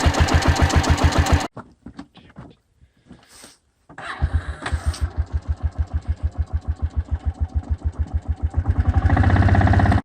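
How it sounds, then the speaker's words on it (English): A four-wheeler engine running without its battery in a cold, below-freezing shed; it sputters and stops, then restarts into a rough, pulsing idle that gradually steadies and grows louder. "Now, the four-wheeler will run without the battery, but it doesn't run very well."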